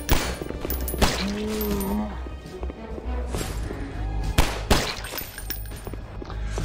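Gunfire in the zombie survival game ZworldAfterLife, with several loud sharp shots and bursts spread across the stretch and game noise between them.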